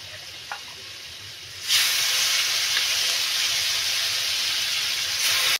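Chicken pieces drop into oil in a pan. After a quiet start, a loud, continuous sizzle erupts and holds steadily to the end.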